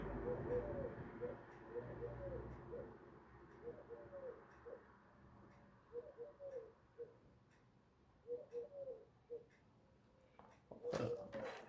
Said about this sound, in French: Je savais pas, mais les pigeons faisaient ce bruit